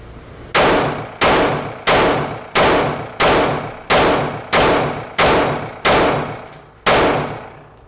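A Glock 43X pistol fires a 10-round magazine: ten loud, sharp shots in a steady, evenly spaced rhythm, each with a short decaying ring, heard close with no talk.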